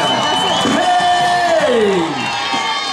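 Fans cheer at a women's beach volleyball championship third-place match in Russia, a loud, sustained crowd roar with whoops and high shouts, one voice rising in a long yell that swells and then falls away.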